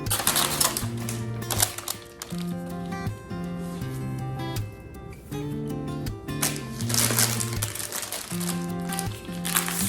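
Reused parchment paper crinkles and rustles in bursts close by while handling sourdough, over a backdrop of steady music.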